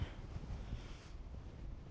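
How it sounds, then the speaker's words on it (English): Wind buffeting the microphone in a low, rumbling roar with gusty fluctuations, fairly constant and close, no voices. "just a bit windy."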